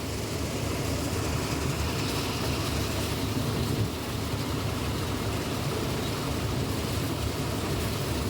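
A corn thresher driven by a John Deere 5405 4x4 tractor runs continuously at a steady pace, a dense mechanical rumble and clatter with no pauses, moderately loud.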